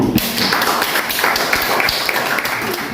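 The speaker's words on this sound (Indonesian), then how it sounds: "Kalau begitu kita beri aplaus dulu untuk kelompok 3." Classroom applause for a presenting student group, a burst of many hands clapping quickly and fairly loudly in a room, continuing steadily for a few seconds.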